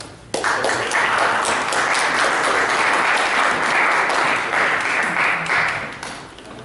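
An audience at a philosophy and society academic gathering breaks into strong applause after a short lull, a dense sustained roar of clapping that fades near the end.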